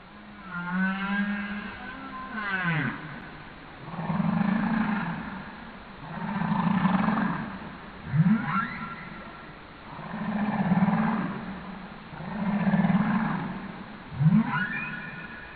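Humpback whales call underwater in a series of long, moaning and rising vocalizations, repeating roughly every two seconds at moderate volume with no talk over them.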